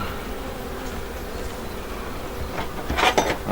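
Honey bees buzz around Dadant-style hives in use during a honey harvest, a steady soft drone that swells louder and closer near the end, with no talking.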